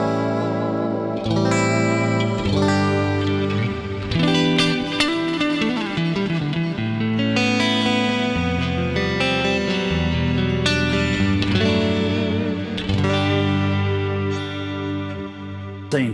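A clean electric guitar plays through an Axe USA pre-clean amp model, producing continuous chiming chords and arpeggios washed in echo, reverb and chorus, loud and alone throughout.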